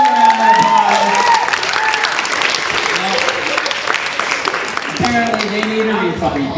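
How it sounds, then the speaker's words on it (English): Audience at a stage hypnosis show applauds loudly and steadily, with cheering mixed in and voices talking over the sustained clapping throughout. "Give them a round of applause."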